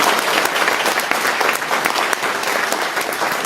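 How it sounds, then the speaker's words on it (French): Warm, loud applause from an audience at a municipal election campaign meeting in Le Kremlin-Bicêtre, thick continuous clapping that holds strong from beginning to end. "Valérie, on peut l'applaudir très chaudement."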